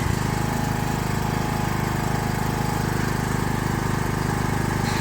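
On a sheep farm, a mower cuts second-cut hay. Its engine drones loud and steady, with a rapid chattering pulse running through it, and no voices are heard.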